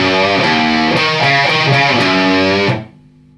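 Distorted electric guitar plays a riff, loud and sustained with rhythmic chord changes, then cuts off abruptly into a brief fading ring.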